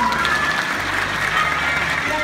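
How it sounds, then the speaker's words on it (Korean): Audience applause for teachers at a girls' commercial high school entrance and opening ceremony, a steady dense wash of clapping throughout, with faint voices mixed underneath. "1년 동안 잘 부탁한다는 뜨거운 박수 부탁드리겠습니다"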